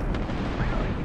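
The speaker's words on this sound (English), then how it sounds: "Bombardments!" Artillery bombardment pounds away in Apex Legends, a dense, continuous roar of low blasts with no clear gaps, loud and close throughout.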